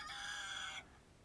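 Chickens kept around a garden perimeter give one sustained, harmonic crowing-like call lasting most of a second, close and clear, then cutting off to quiet background.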